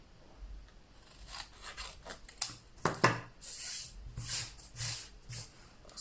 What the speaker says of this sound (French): Et je vais venir découper un tout petit peu plus loin.